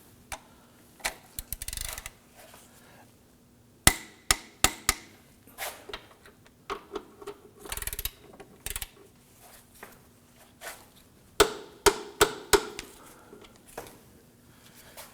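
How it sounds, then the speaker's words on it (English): Torque wrench tightening the bolts on a 2008-2011 Ford Focus engine torque strut mount, a series of sharp, close clicks in irregular bursts with a faint steady hum underneath and no talking. "Let's go ahead and torque these down to"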